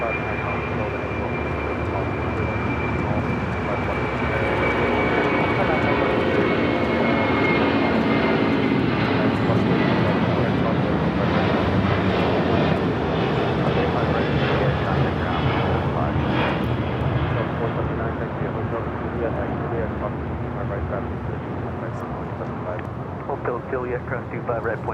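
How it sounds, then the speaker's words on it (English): An 18-year-old Boeing 747-400 freighter at LAX fills the air with a loud, continuous jet-engine roar that holds steady for the whole span and shifts slightly in tone near the end. "This is an 18-year-old 747-400 freighter."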